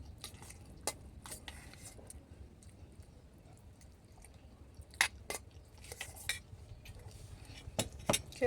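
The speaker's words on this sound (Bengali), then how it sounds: "খেয়ে নিই, খেয়ে তবে কথা বলছি" A person eats a home-cooked meal with mixed mung and masoor dal, with close, quiet chewing and mouth sounds broken by sharp clinks of cutlery on dishes, irregular and sparse at first, then busier toward the end, with no talking.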